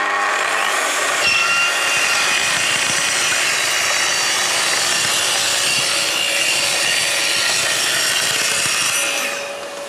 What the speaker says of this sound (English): let the machine build up speed, then we can plunge into the splinter guard